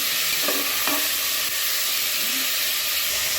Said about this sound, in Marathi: चांगलं छानपैकी हलवून घ्यायचं मिक्स करून तेलामध्ये